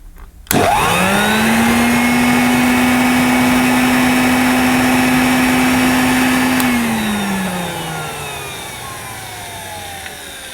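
A vintage Hoover Junior 1334A upright vacuum cleaner switches on with a sharp start, holds a steady loud motor whine for several seconds, then powers down and winds slowly away.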